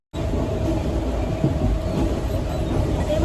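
A passenger train runs steadily after pulling away, a continuous low rumble and rattle of the carriages heard from inside, loud and even with no talk.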